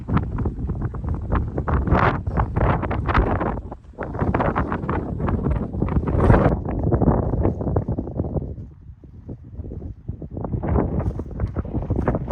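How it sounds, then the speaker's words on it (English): Gusty wind picking up at a solo wild camp beside a Fjallraven Abisko Lite 2 tent, loud buffeting rushes against the microphone in waves with brief lulls, no voices. "Got a bit of protection here from the wind. It has picked up, and it's quite nippy as well"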